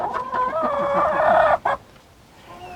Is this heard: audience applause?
no